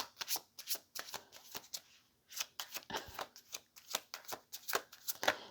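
A tarot card deck is shuffled up close, with crisp riffling flutters and soft slaps coming in quick irregular bursts and a short pause midway.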